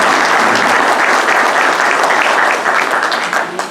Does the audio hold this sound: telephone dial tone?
no